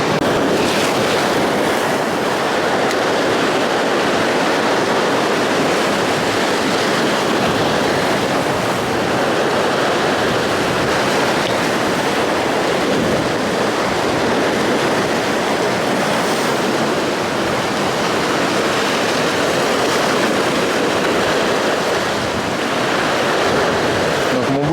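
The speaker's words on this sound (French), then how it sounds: "il y a beaucoup de vagues juste derrière moi" Big, dangerous ocean waves on a beach in Thailand, heard where someone is fishing. The surf crashes and roars continuously and loudly, mixed with heavy wind buffeting the microphone.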